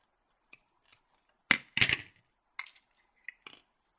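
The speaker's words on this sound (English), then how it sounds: "And then you can snip these off." Scissors snip off the leftover rubber band ends of a Rainbow Loom cup cozy, a handful of crisp close cuts and clicks spaced irregularly in a quiet room.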